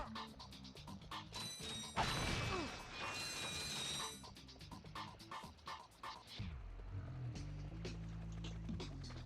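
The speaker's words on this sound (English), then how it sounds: "I just try and hit everything with a wrench." In the Ratchet & Clank game, a wrench smashes objects with repeated metallic whacks and crashes, crates bursting amid a burst of clattering debris and game effects, fairly faint overall.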